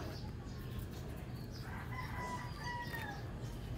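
A backyard chicken in a provincial garden gives faint, scattered clucks and calls over a steady low background hum, with no one speaking.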